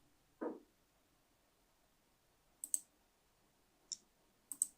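Computer mouse clicks on the publish button while making a WordPress post: a soft low thump, then a few faint, crisp clicks spaced over several seconds in a quiet room.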